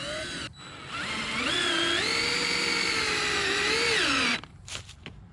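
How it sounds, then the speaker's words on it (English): A power drill whines as it drives a long 4-inch deck screw into wood without pre-drilling, the motor pitch climbing and holding, then cutting off, followed by a few faint knocks. "So I've got some 4-inch deck screws that I'm going to run in"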